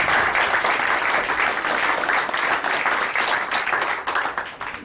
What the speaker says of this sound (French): Ça vaut les applaudissements.